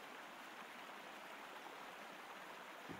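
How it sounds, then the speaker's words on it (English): The Rogue River rushes through one side of the Gold Ray Dam during its removal, a steady broad roar of flowing water with no pauses. "The river is flowing through one side of the dam."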